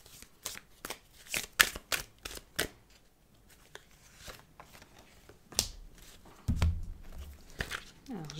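Oracle cards being shuffled for a tarot-style love reading: crisp riffling flutters and taps in short bursts, close and fairly quiet, ending with a soft thud.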